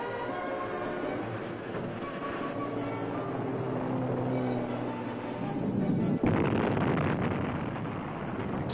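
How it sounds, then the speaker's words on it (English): Rock blasting in a canyon for the Hoover Dam tunnels sets off heavy, rumbling explosions with a long roaring decay, and a sharp, louder blast lands near the end, all without voices. "Explosions rocked the canyon almost daily for 2 years"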